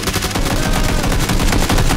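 Loud, continuous automatic gunfire in PUBG Battlegrounds, a dense rapid burst of shots filling the whole moment close by with no pause.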